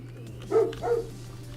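Luna, a pet dog, lets out two short close barks in quick succession, then falls quiet against a low background hum.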